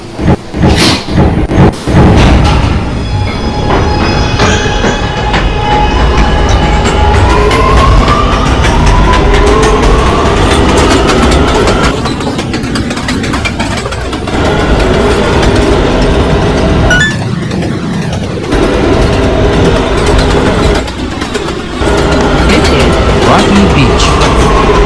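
A New York subway A train bound for 207th Street runs loud and close, a steady roar of wheels and motors with rhythmic rail clatter and brief squeals, a few sharp clanks near the start.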